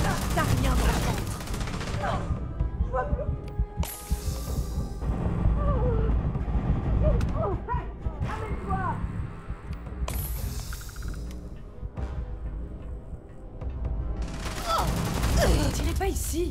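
Gunfire in the video game Starfield, with repeated bursts and single shots over steady background noise, while voices shout in French throughout.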